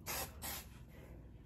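Hairspray from an aerosol can is sprayed onto hair in two short, close hissing bursts, and a quieter hiss trails off afterward.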